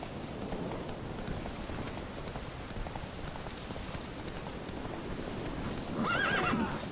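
Roach, a horse in The Witcher 3, galloping with continuous hoofbeats under steady rain, close and even, ending in a loud whinny near the close of the clip.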